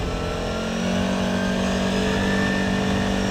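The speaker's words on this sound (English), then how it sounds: "Okay, maybe I will try to drive a little bit faster." A CFMoto Cforce 520 ATV engine accelerates while being ridden, giving a loud, steady, close drone that rises slightly in intensity partway through.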